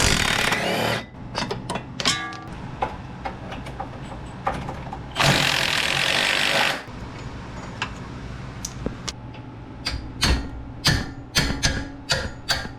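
Bolts on the traction bars of an EF wagon are tightened with Icon ratcheting wrenches, a run of quick metallic ticks and clicks in short bursts, with a louder grinding whir partway through and sharp taps near the end.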